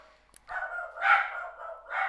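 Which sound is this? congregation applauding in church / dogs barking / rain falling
dogs barking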